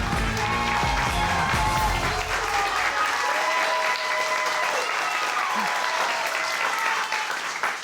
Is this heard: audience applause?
yes